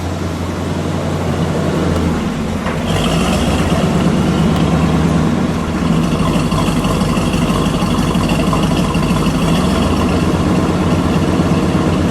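A 1969 Dodge Charger Daytona's 440 V8 idling, a loud, deep, steady rumble with a lumpy pulsing beat that holds throughout, recorded close with no talking.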